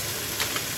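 Chicken pieces browning in a hot pan give a steady, close, soft sizzle and hiss with a couple of brief sharper spits, no talking.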